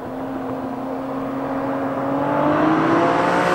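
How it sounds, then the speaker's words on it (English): Turbocharged engine of a 2018 Kia Stinger GT heard from inside while driving, a steady whirring drone with a gradually rising tone as the engine builds speed. "the turbo sounds coming from under the hood. The blow off and just the rushing air"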